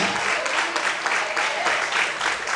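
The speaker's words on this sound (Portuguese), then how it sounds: "Vamos também aplaudir e exaltar a Deus por isso" A church congregation applauds together during an evening service, a steady dense wash of many hands clapping with no pauses, fairly loud and close, with faint voices mixed in.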